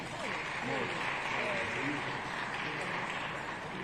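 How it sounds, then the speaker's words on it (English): Conference audience applause, a steady moderate wash of clapping sustained through the moment with a faint voice murmuring over it. "A round of applause, please."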